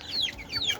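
Farm-breed chickens, a chick among them, give two short, high, downward-sliding calls close by, separated by a brief pause, with no talking.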